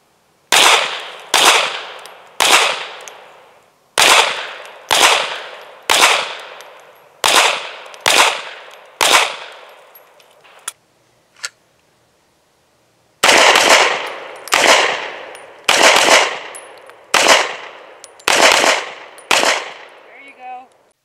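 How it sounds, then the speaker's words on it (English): Pistol shots fired at a target on a range, loud close reports in quick pairs and runs with short gaps between strings. "Please note how quickly the first shots were fired, both of which hit the target center mass."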